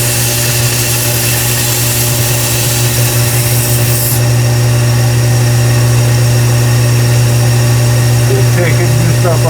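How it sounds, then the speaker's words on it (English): Kalamazoo 1x42 belt sander (model 1SMVP) running steadily with a strong constant motor hum and whine, loud and close, shifting slightly partway through as if loaded while a knife handle is rounded. "I did some of the rounding and everything with this belt sander."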